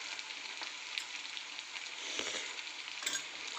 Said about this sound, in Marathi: चांगली मिक्स करून घेऊ.